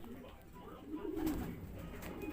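White Flight pigeons cooing softly, a brief low murmuring coo rising midway through, faint and close amid light background noise.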